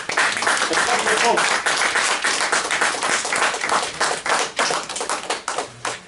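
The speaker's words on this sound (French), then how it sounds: "moi j'applaudis le frère" Clapping from an audience at a public exchange during a Kamit New Year gathering, a steady patter of hands lasting several seconds and thinning toward the end, with voices mixed in.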